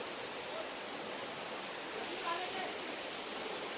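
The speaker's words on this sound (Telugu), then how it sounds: "వాటర్ ఫాల్స్ దగ్గరకు వచ్చేసినాం." Muthyala Dhara waterfall in Telangana roars as a steady, dense wash of falling water that holds an even level throughout, with no break in the sound.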